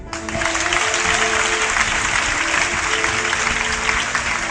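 A church congregation applauds the reverend father at a Mass, a loud, dense, steady wash of clapping that starts abruptly and holds evenly throughout.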